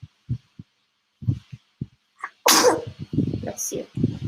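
A single loud, close sneeze bursts out midway through a real estate discussion, set against a soft thudding rhythm and brief low sounds before and after, with a voice speaking just around it.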